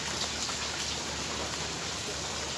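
Steady rain falls and patters on surfaces around garden trees, with mango trees nearby during a storm. The broadband hiss is even and fairly loud, continuous throughout with no talk.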